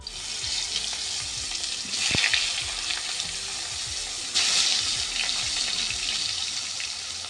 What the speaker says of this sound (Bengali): নিয়ে বেগুনগুলো ভাজতে দিয়ে দেব